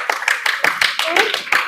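Hands clap in a steady rhythm of about nine sharp, close claps in quick succession, with a voice talking briefly in between.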